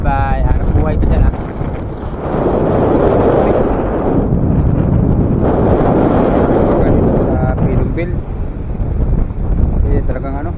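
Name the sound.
strong wind at sea on a fishing boat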